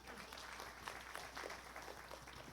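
A church congregation applauds at a Spanish-language service, a faint, distant patter of many hands clapping continuously for a few seconds.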